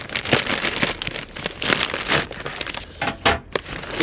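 A heavily taped parcel is unwrapped by hand, giving close, loud bursts of crinkling plastic and tearing tape in an uneven rhythm, with no talk.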